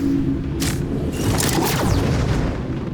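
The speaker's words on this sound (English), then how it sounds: "During the explosion, an engineer by the name of Guardian was killed." A bomb blast in the video game Metal Eden, a loud sustained rumbling boom with crackling debris, filling the whole stretch steadily with no speech.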